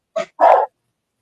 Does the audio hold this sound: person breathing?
no